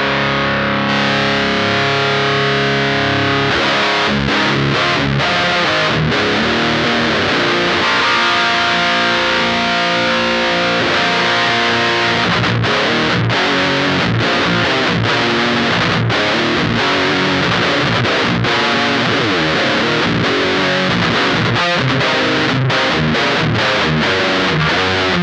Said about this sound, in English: if we turn it up, we're gonna get more and more distortion